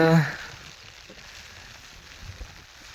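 Steady monsoon rain, the first of the Shravan season, pours down around a sheep pen as a soft, constant hiss; a brief louder knock sounds at the start.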